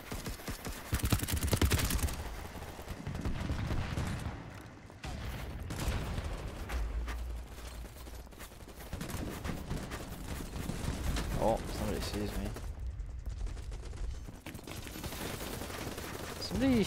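Gunfire crackles through a night-map match in Battlebit Remastered, with bursts and rapid automatic fire from several weapons running throughout, near and distant shots layered over a busy battlefield.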